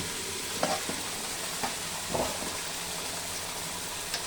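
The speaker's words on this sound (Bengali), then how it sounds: "এইখানে হচ্ছে আলাদা মাংস রান্না করছি" Meat for biryani cooks in a pan, giving a steady close sizzle and frying hiss, broken by a few soft stirring scrapes and clinks, with no voices.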